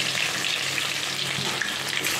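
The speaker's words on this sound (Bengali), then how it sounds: "ফোড়নটা হয়ে গেছে, আমি দিয়ে দিচ্ছি এবার আলু আর একটু বাকি কচু" Potatoes and taro hit hot oil tempered with bay leaf and nigella seeds, giving a loud, dense, steady sizzle and crackle of frying throughout, close up and with no voices.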